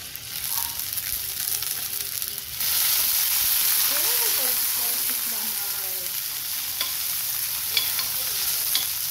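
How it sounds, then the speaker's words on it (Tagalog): Ginger and tomato sautéing in a hot pan for fish tinola, a steady loud sizzle with stirring scrapes, jumping louder partway through as more goes in, with a faint voice in the background. "pinigisa ko muna siya guys para masarap"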